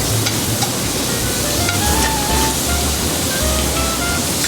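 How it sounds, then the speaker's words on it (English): Scallops sear in a hot pan with a loud, continuous, close sizzle that stays dense and even throughout, with no voices. "Cook your scallops when they're nicely browned."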